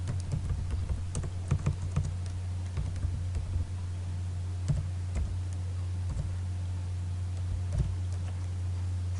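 Keys clatter in irregular bursts as code is typed on a computer keyboard for an HTML5 and CSS3 website lesson, the clicks sitting over a steady low hum with no voices.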